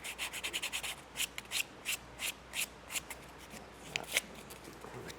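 Quiet, rhythmic rasping strokes of sandpaper working the glued edge of a tooled leather knife sheath, a quick run of short rubs followed by slower, evenly spaced passes.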